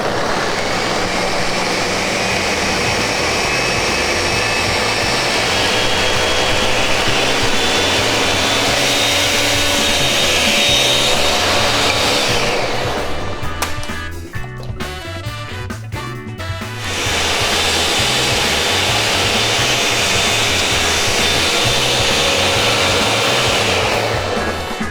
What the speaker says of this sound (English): time to make our sauce, and we're gonna blend this for a while because we want it to get nice and smooth and creamy